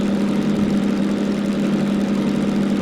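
A locomotive engine idling in Derail Valley, a steady, loud low drone with a constant hum and a slight vibration, unchanging throughout.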